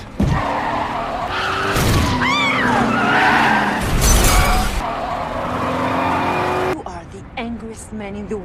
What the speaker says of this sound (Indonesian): menabrakkan pengemudi tersebut ke sebuah mobil yang terparkir